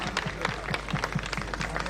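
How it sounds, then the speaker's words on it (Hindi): A crowd claps in a steady, rhythmic beat for a guru on stage at the Khajuraho film festival. The unison clapping is moderately loud and continuous, with some crowd noise underneath. "गुरु जी के लिए ताली मारो सब लोग।"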